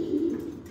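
A male pigeon gives a single soft, low coo, brief and close, with no other sound or talk around it.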